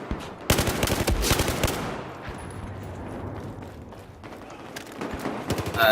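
DMR rifle fire in the video game Battlefield 4 comes as rapid bursts of close, loud shots, with a dense volley early and more near the end over a continuous game background.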